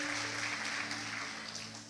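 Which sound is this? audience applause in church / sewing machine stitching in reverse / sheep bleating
audience applause in church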